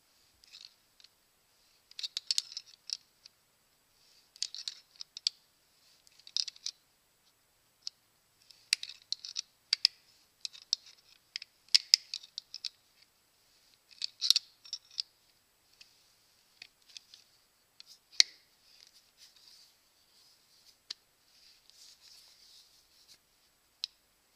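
A master rethreader tool being turned along a damaged bolt thread, giving bursts of sharp, close metallic clicks and scratchy ratcheting in irregular clusters, with brief pauses between turns and no talk.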